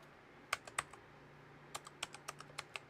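A computer keyboard typing nearby with brief clusters of crisp clicks and a pause between runs of keystrokes, quiet and without speech.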